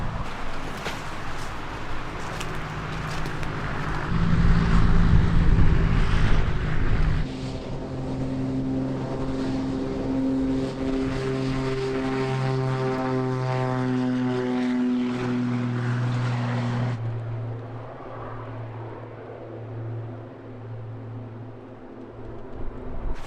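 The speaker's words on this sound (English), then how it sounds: "Sounds like another airplane taking off, so I'll go check that out." A propeller airplane takes off in a video game, its engine droning loud and steady with rising harmonic tones, then cutting to a fainter hum near the end.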